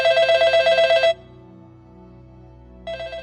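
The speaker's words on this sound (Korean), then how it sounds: "내선 전화가 울린다." An internal office telephone in an internet café rings in a loud electronic trill, then stops briefly before the ringing starts again near the end.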